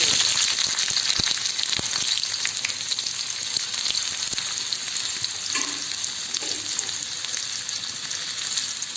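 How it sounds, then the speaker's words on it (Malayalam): Cumin, shallots and garlic frying in a pan for Onam sambar, a steady close sizzle with dense crackling and occasional sharper pops and stirring scrapes. "ജീരകം പൊട്ടി വന്നിട്ടുണ്ട്. അതിലേക്ക് ഒരു 2-3 ചുവന്നുള്ളി, ഒരു 2-3 അല്ലി വെളുത്തുള്ളി ഇട്ട്."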